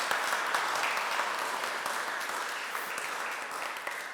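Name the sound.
audience applause in church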